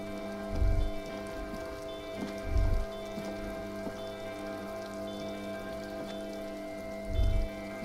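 Steady rain patters across a surface in the video game Disco Elysium, a constant close hiss with a few soft low thumps rising out of it now and then, joined by a faint sustained musical drone.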